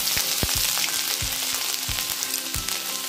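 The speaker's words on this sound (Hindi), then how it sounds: "अब इसमें अदरक डालेंगे," Ginger goes into hot oil with cumin seeds in a pan, making a dense, crackling close-up sizzle punctuated by a regular series of low spoon thumps against the pan, with no talking.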